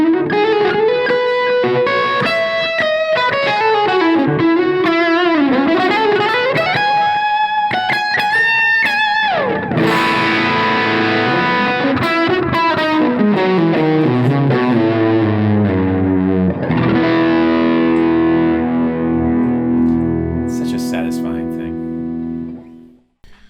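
Loud, sustained distorted electric guitar played through a high-gain pedal into a Strymon Iridium amp, with bends, melodic runs and ringing chords that fill the clip before cutting off at the end.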